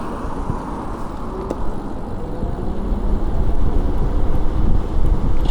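An electric hybrid eBike motorcycle out on a ride gives a steady rush of wind buffeting and road noise that slowly grows louder, with no talking.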